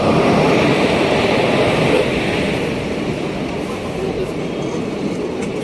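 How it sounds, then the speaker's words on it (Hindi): Dadar Express arriving behind a Bhusawal-shed WMP 4 locomotive, a loud continuous rumble of wheels and rolling stock that eases slightly as it comes in. "निर्धारित समय से 25 मिनट की देरी के साथ अपनी दादर एक्सप्रेस आ चुकी है।"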